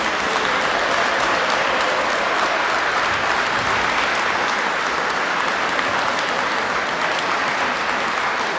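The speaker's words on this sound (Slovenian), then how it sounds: "najprej hvala za ta aplavz" A crowd at a regional SDS party gathering applauds a minister stepping onto the stage, sustained dense clapping at an even level throughout, fairly close, with no talk over it.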